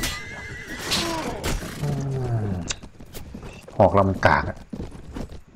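Cavalry horses neighing and whinnying in the Mount & Blade Warband video game, several loud calls rising over battle noise, with someone talking over them.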